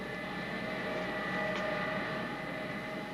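A Boeing 727 jet airliner taxis onto the runway at dusk, its engines giving a steady whining drone with a high tonal hum, moderately distant and unbroken, with no voices.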